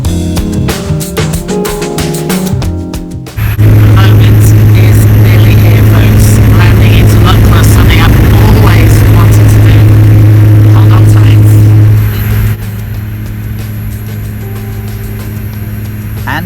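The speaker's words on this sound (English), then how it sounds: "And for a pilot's eye view of this spectacular landing, get yourself to the front of the plane." A small plane's engines drone loud and steady while landing at Lukla airport in the Himalayas, a constant cabin roar that briefly swells and then eases as the aircraft slows.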